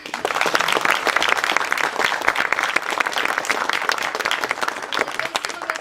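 Theatre audience clapping after a stage play performance in a hall in Lille, a dense, steady round of applause from many hands, sustained and lively throughout.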